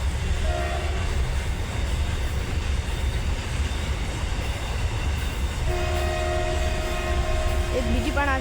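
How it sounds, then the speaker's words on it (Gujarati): A passenger train passes close by with a steady loud rumble of wagons, and horn-like tones sound briefly near the start and again toward the end. "ફાઇનલી રેલગાડી જાય છે"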